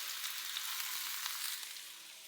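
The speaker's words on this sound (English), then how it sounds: "we're going to take the zucchini and add it to hot olive oil" Zucchini hits hot olive oil in a pan with a loud, steady sizzle that tapers slightly toward the end, alone with no talking.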